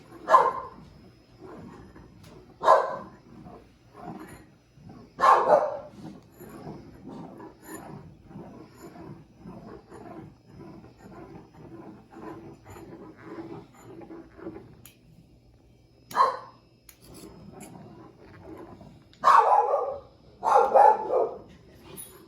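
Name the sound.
dog barking behind a curtain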